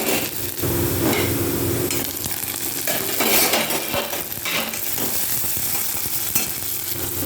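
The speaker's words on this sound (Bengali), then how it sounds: "পেঁয়াজটা একটু ভেজে নিয়ে দিয়ে দিচ্ছি টমেটো কুচি।" Chopped onion and tomato fry in a pan with panch phoron for motor ghugni, a steady loud sizzle running throughout with occasional spoon scrapes and clinks against the pan.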